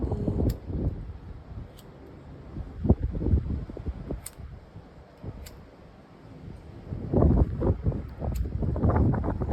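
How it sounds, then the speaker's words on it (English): Gusty wind on Mykonos, Greece buffets the microphone in low rumbling surges, rising and easing, loudest near the start and end, with no voices. "so windy."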